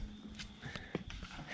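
Horse hooves clip-clop on the ground at an unhurried walking pace in Salento, Colombia, irregular thuds against faint outdoor background noise.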